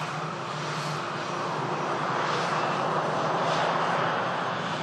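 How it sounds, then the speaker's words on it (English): A Ryanair jet on final approach at Manchester Airport, about to touch down, gives a steady, broad engine roar that holds loud and even throughout with no voices. "Ryanair about to touch down."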